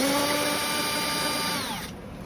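A power drill boring with a Spectral twist bit from a 29-piece set gives a steady, loud motor whine that holds, then winds down near the end as the trigger is released.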